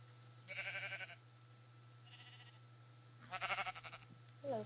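Minecraft sheep give three short bleats, two loud and one softer between them, over a steady low hum from the game, with no one talking.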